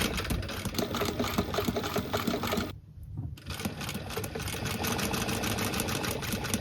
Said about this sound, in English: So we're literally just doing the same to the scoop back now, hemming it.